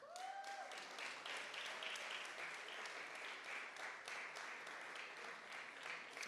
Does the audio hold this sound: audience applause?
yes